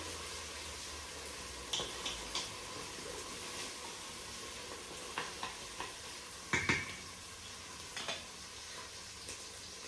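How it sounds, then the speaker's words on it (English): Onions cook through in a pot, producing a soft steady sizzle overlaid by a series of intermittent stirring scrapes and utensil taps, close but fairly quiet, with no one talking. "Cook your onions through."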